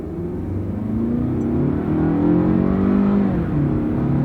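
A car on a test drive pulls away from a stop, its engine rising in pitch as it accelerates through the revs, a close and steady rumble without speech.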